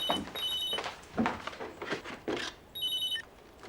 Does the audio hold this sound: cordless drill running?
no